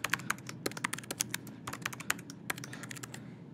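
Rapid typing on a computer keyboard while a form is filled in, a close, steady patter of key clicks with brief pauses, no talking.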